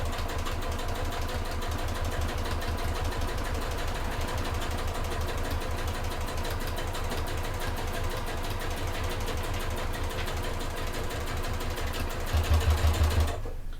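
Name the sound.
sewing machine stitching a clutch bag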